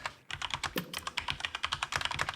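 Rapid clicky keystrokes on a computer keyboard within the Empires of the Undergrowth video game, a dense irregular patter of close, crisp taps lasting a couple of seconds with no talk.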